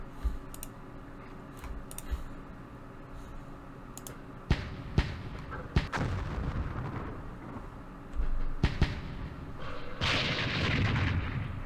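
Mortar barrage in the Vietnam war game Campaign Series Vietnam, set in the Battle of Hue: a run of sharp distant thumps and cracks over a steady low rumble, with a louder burst near the end.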